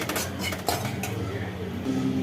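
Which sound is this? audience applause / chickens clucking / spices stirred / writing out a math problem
spices stirred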